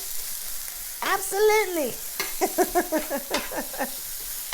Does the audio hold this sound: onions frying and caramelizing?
yes